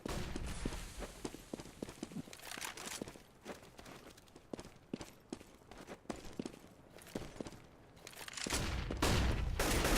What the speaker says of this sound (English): AK-47 headshot from Cajun, and a second one as well.